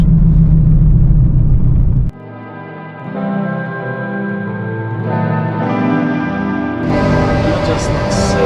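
Loud, droning road noise inside a 2003 second-generation Honda CR-V cruising at 40 mph on mud tires with the AC off, a steady low rumble and hum that shifts in pitch partway through.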